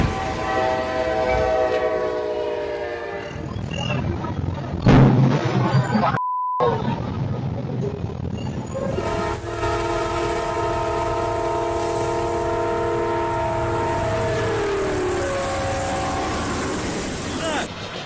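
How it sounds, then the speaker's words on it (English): Train rushing through a level crossing in Versailles, Ohio, its horn blaring in long sustained tonal blasts over loud rumbling wheels and rail noise, close and continuous, with a brief beep tone midway. "the driver had no choice but to leave his vehicle behind as a rushing train passed through Versailles,"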